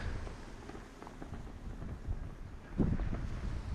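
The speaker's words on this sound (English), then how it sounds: "Sorry about the wind." Gusty outdoor wind buffets the microphone with a steady low rumble and rough roaring bursts, swelling louder near the end, with no voices.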